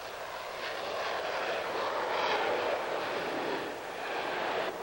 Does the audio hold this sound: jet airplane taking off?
yes